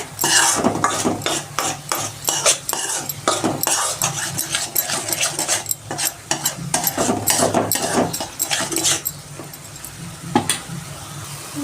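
An egg dry curry sizzles in a pan while a spatula stirs and scrapes it vigorously, close and loud, with rhythmic rasping strokes over a continuous frying hiss.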